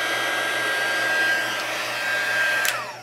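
A heat embossing tool blows with a steady, loud hair-dryer-like whoosh and hum, running continuously to melt embossing powder, with no talking.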